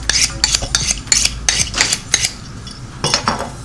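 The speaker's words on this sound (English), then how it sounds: "the first thing we're going to do is we're going to cut the avocado" Sharp knife cutting through a very ripe avocado, a series of close, crisp clicks and taps against a board in quick irregular bursts, with no talk.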